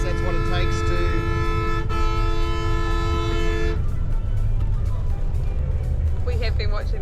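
A bus horn on a Bangladesh intercity route to Chittagong blares in a long steady honk for several seconds over engine and road rumble, then gives way to traffic noise with brief further toots.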